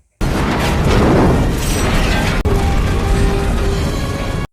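A large blast from an action film sends dozens of shipping containers tumbling off a cargo ship, a loud sustained roar with a dense rumbling crash and debris clatter filling nearly five seconds.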